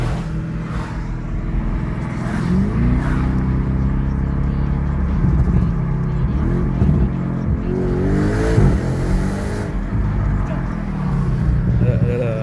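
An Audi RS6 engine revs and rumbles loudly throughout, heard with the window open, with repeated rising and falling sweeps as it accelerates; a voice talks intermittently underneath.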